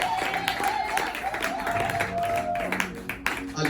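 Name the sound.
audience applauding and cheering for Jesus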